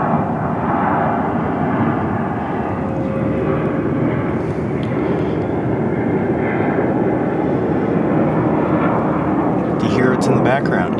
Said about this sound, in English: See, there's a plane there. It is very slowly approaching.